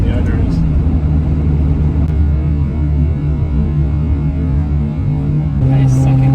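A Ferrari 355 engine hums low and steady in second gear as the car climbs a ramp, fairly loud and close, with people talking over it.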